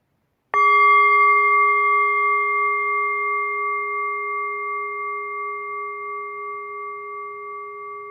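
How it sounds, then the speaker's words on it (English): A meditation bell at a one-day retreat in Covina is struck once, giving a clear ringing tone with steady overtones that sustains and slowly decays over several seconds in an otherwise silent room. "Please close your eyes gently with the sound of the bell."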